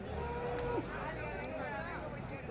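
Buffalo at a busy cattle market in Karungalpalayam, Erode: a low moo rises amid crowd chatter and background noise, with people talking nearby.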